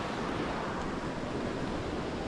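Squaw Valley Creek rushes beneath a bridge on a trail, a dense, constant roar of flowing water that stays close and unchanging throughout.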